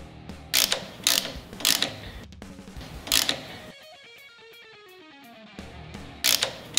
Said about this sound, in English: go ahead and tighten everything down and lock our set screws in